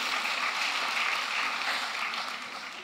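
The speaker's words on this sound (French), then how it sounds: "Vous pouvez vous applaudir." A crowd applauds steadily, a dense patter of clapping that fades slightly toward the end, with no voices on top.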